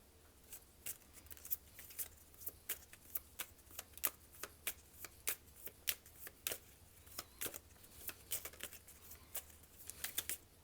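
Tarot cards being shuffled and drawn, a run of sharp crisp flicks and slaps at an irregular rhythm, close and fairly quiet over a low steady room hum, with no talking.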